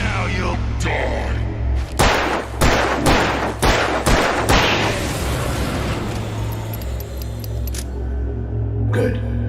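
Gunshots ring out in the game Alan Wake Remastered, several sharp loud blasts fired in a quick irregular volley, then fading into a low echoing rumble with a final faint crack.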